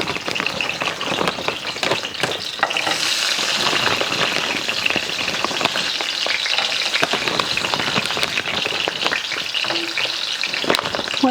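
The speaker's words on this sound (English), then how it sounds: "frying this okra" Okra sizzles and crackles in hot oil, a loud, steady frying hiss with sharp pops and spatters throughout.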